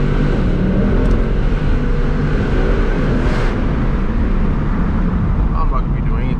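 A 2020 Ford Mustang GT with a 10-speed transmission rumbles in track mode, a loud, constant low engine roar that never lets up, while someone talks over it.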